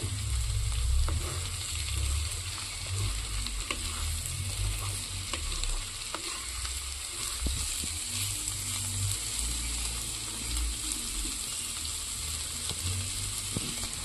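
Cauliflower with poppy seeds is stir-fried over a high flame, with a steady close sizzle and crackle broken by the scrape and clatter of stirring.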